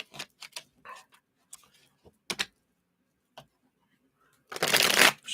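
A few scattered card clicks and taps, then a quick, loud riffle of a deck being shuffled close by near the end.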